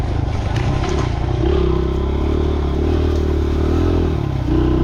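Dirt bike ridden down a new dirt trail, a steady droning engine close by with clattering and scraping over the ground throughout.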